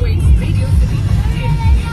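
Road traffic crawls through the Khandala ghat, a steady low engine rumble heard from close by under continuous talk.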